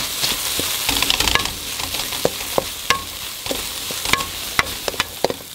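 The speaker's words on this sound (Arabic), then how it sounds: "ونحمس الزبيب مع البصل يا معلم" Raisins frying with softened onions for Kuwaiti majboos hiss steadily in the pan, while a spoon stirs them with frequent sharp clicks and scrapes close by.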